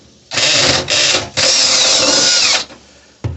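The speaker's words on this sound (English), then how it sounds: "I'm just fixing to drill a hole in this boat for the through hole pickup" A power drill whines loudly in three bursts, the last one longest, grinding as it bores through a fiberglass boat hull for a through-hull pickup, close to the microphone.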